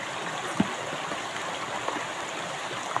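A strong current of water rushes steadily and continuously, a dense, even wash of sound with no breaks and only faint knocks on top.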